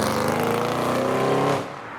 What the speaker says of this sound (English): We have a JZX 100 Toyota Mark II in white coming around the roundabout